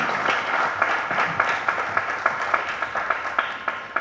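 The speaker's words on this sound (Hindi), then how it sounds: "एक बार तालियां बजा दें" An audience at a Haryanvi comedy poetry show claps on request, a lively burst of applause with distinct individual claps standing out, loud and close, thinning slightly toward the end.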